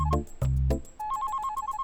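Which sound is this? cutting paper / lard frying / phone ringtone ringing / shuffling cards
phone ringtone ringing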